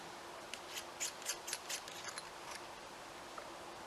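Rifle scope turret on a Howa rifle being turned, a short series of about seven crisp mechanical clicks spaced roughly a quarter second apart, close and fairly quiet against a faint outdoor hiss.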